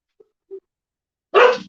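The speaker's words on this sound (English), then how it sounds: "Oh, there's a dog going by." A dog barks once outside, a short, fairly loud woof after a couple of faint ticks, then silence.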